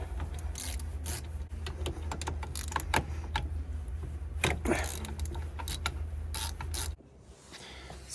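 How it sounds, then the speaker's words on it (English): A ratchet loosening the two 14 mm caliper bolts on the rear brake of a 2016 Mazda 3, rapid clicking pawl ratcheting close up in sustained bursts, ending abruptly with quieter handling after. "Now let's take off this caliper. It's just 2 bolts, 14 mil."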